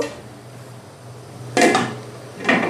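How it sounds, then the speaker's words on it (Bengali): A metal lid clanks onto a beef biryani cooking pot over a low stove flame, giving two short, close knocks against a quiet hum. "আমি ঢাকনা দিয়ে দিলাম"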